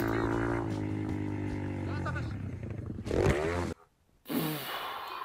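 A motorcycle engine from a short played-back rider clip, in which the rider leaves the bike on a jump, drones loudly under someone talking, cuts out briefly, then surges back.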